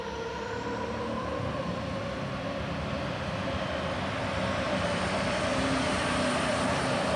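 An 11,000-pound super stock pulling tractor roaring through a pull, a loud sustained engine drone with a slowly rising pitch, steady and heavy throughout the run.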